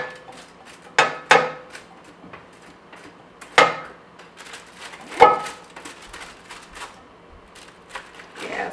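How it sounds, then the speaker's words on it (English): Roasted feta Brussels sprouts scraped from a hot pan into a serving dish with a spatula, giving several sharp clatters and scrapes at irregular moments between quieter shuffling. "I'm going to transfer this into this dish"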